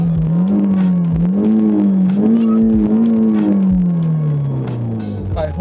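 A car engine revs repeatedly, the pitch climbing and falling in several smooth, loud pulls before settling back toward idle, close to the listener with no talking.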